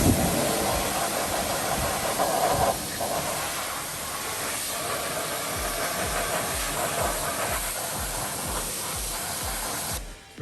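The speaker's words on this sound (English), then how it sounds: "We're just going to rinse down the wheel." A car wheel gets rinsed with a steady, loud hiss of water spray that runs unbroken for about ten seconds, with no one talking over it.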